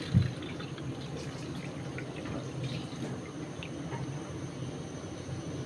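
Water running and splashing from rinsed lentils (dal) as it drains off in a home kitchen, a steady close wash of liquid with no talk.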